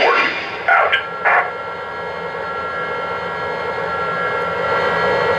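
A Lionel Union Pacific FEF-3 #844 model steam locomotive runs its start-up sequence: a few short bursts, then a steady hissing, droning hum that holds near and fairly loud.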